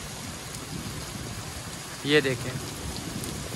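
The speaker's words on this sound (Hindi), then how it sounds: "ये देखें इतनी तेज़ बारिश हो रही है" Heavy rain pours down in a Hindu village in Pakistan, a steady dense hiss throughout, with someone briefly speaking over it partway through.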